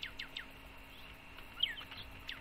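Short, bright chirps and tweets from birds in the video game Bird Simulator, several quick calls in a row with a sharper note midway, fairly faint over a steady hum, no talking.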